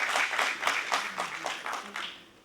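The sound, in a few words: applause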